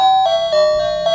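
A wireless doorbell chime plays a short melody, close and clear, with a few bright tonal notes held in sequence over a steady ringing tone and no voices.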